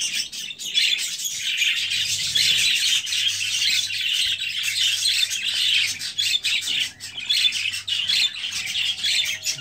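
Newly hatched baby parrot chicks chirp continuously in a dense, high, close chorus of thin peeping calls, with a faint low hum beneath and no talking.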